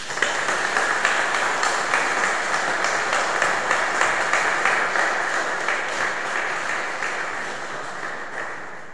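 A church congregation applauds warmly, a broad, reverberant wash of many hands clapping steadily that slowly tapers off toward the end.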